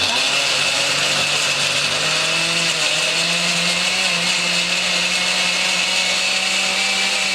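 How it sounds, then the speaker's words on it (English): A blender purees tomatoes seasoned with salt and pepper in a loud, steady whirring roar that runs close and unbroken throughout. "And then what we're going to do is blend this."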